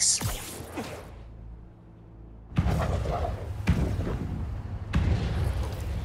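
Fireworks in the Spider-Man video game go off as a few heavy booming blasts, one early and then three more in quick succession, each with a rumbling tail over low game ambience.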